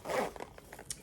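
A zipper drawn open on a small children's first aid bag: one quick, close rasp followed by a few light clicks and rustles.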